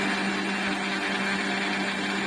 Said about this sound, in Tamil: மிக்ஸி ஜாரை க்ளோஸ் பண்ணிவிட்டு நல்லா இதை அரைச்சி எடுத்துக்கலாங்க